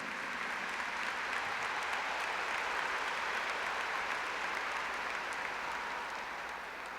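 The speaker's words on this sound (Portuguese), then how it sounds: "Vamos aplaudir o Senhor." Church congregation clapping for the Lord during a charismatic prayer gathering, a dense, sustained wash of applause from a large crowd that holds steady for several seconds and only slightly tapers at the end.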